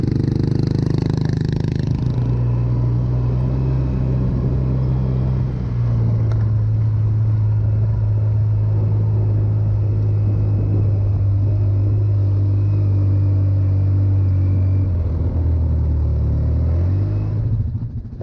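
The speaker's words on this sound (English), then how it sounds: "Give it some gas." A car engine runs off-road in Alabama Hills, a loud sustained low rumble that holds a steady drone and shifts pitch slightly near the end, with no voices heard.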